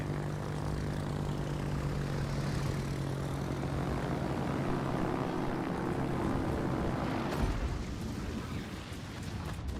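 A fighter plane launches in a naval warship video game, its propeller engine droning steadily and loudly before the roar cuts off and gives way to a softer, more distant rumble.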